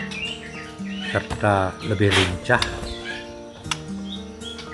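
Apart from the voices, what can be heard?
murai batu (white-rumped shama) singing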